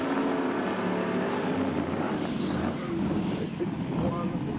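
A drag race run pits a small electric-powered car against a pickup truck, a steady roar of vehicle noise with wind buffeting, loud and continuous, with a commentator talking over it.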